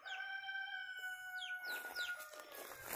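Chickens on a farm, with rooster-like crowing and fowl calls ringing out as steady, overlapping tones over a busy outdoor background that grows noisier partway through.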